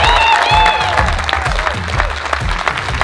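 Loud applause from an audience welcoming racing driver René Rast onto a stage, steady clapping with some crowd noise and a few voices or tones over it throughout.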